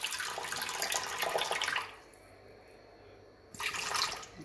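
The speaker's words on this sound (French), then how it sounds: "Je vais mettre 250 g d'eau. C'est de l'eau normalement tempérée." Water from a tap runs into a bowl for a bread starter, a steady close splashing stream for about two seconds that stops, then resumes for a second burst.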